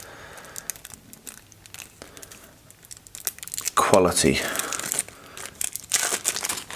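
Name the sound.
unwrapping plastic packaging from a new card game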